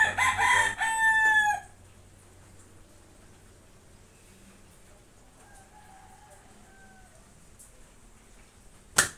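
A rooster crows loudly nearby in a single burst at the start, then quieter clucks and bird calls from nearby poultry drift over a soft background.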